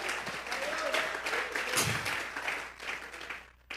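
A church congregation claps together as an offering of applause during a Spanish-language sermon on parenting, a steady, moderately loud spatter of hands with a faint voice briefly showing through.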